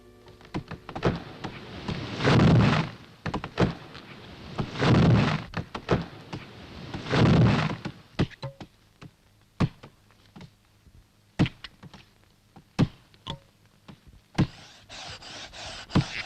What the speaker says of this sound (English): on Britain's hillsides, in her woods, the sound of axes echoed